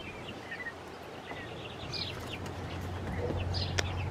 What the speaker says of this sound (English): What is this little sparrow doing in here?